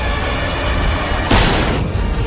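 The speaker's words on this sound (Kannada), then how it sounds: "ಗನ್ ಫೈರ್ ಆದ ಸೌಂಡ್ ಅನ್ನ ಕೇಳಿ" A single sharp gunshot cracks out once from a gun, a brief, loud bang rising above a steady background hiss.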